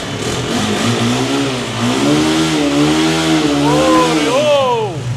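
A modified 165cc engine on a 2020 CRZ motorcycle, started close by, revs up and down in rising and falling surges with a rough, buzzing tone, ending in a sharp climbing rev.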